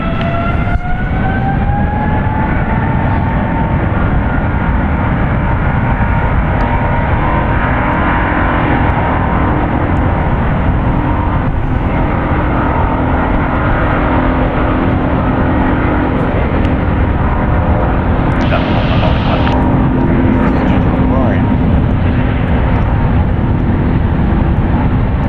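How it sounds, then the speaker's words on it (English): United Airlines jet, Flight 1721 bound for Kona, powers up for takeoff at San Francisco International Airport, a loud steady engine roar with a broad rumble that holds for the full duration, no talking. "Those engines are loud."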